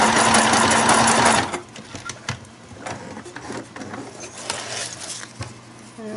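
A sewing machine stitches with a loud, fast mechanical rattle for about a second and a half, then stops. Scattered softer taps and handling noises follow.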